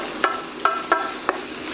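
A fork whisking eggs in a bowl for a vegetarian frittata, four sharp clicking taps against the bowl spaced irregularly over a soft liquid swish, close and clear with no talk.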